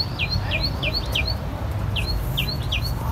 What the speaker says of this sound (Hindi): ये कोयल है, फाख्ता है, जो भी है।